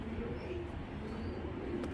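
Racer pigeons cooing at close range, soft low repeated coos over a steady background hum with no talk.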